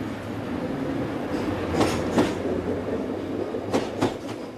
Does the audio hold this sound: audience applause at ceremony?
no